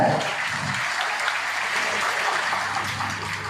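Audience applause at a product and business plan presentation, a steady wash of clapping from a crowd holding for a few seconds, with a faint voice underneath.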